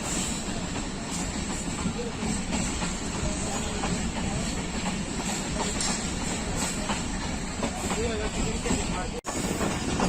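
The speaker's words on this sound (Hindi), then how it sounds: "अल्लामा इकबाल एक्सप्रेस नारोवाल जंक्शन पहुंच रही है" Allama Iqbal Express (10DN) rolling through Pakistan on the Sialkot–Lahore line near Narowal Junction, heard as a loud, steady rumble with hiss and rail clatter running the whole time, briefly cutting out near the end, with faint voices underneath.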